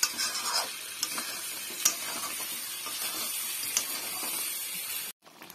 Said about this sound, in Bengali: মাংসটা এখন কষানো হচ্ছে, কষানো হয়েই গেছে।